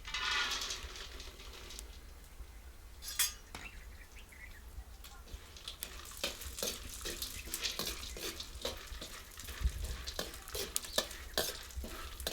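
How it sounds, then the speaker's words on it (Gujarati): Almonds frying in ghee on a hot griddle while making Gujarati adadiya paak: a continuous soft sizzle, broken by scraping and clinking strokes of a stirring utensil against the pan. "હવે આ છે ને બદામ તળવાનું શરૂ કરી દીધું"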